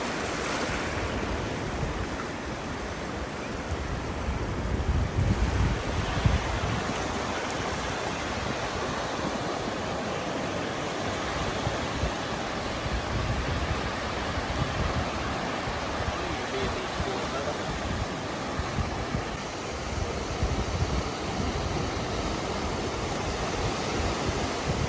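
Ocean waves breaking on a beach at Fripp Island, South Carolina, a steady loud wash of surf with rolling swells and wind throughout.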